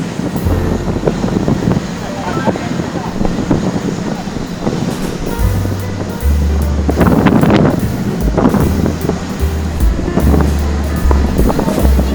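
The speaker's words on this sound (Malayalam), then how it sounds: "നല്ല കാറ്റും അടിക്കുന്നുണ്ട്" Strong wind buffets the microphone in loud gusts over the constant rushing roar of the Rhine Falls in Switzerland, heard up close from a boat, with occasional voices.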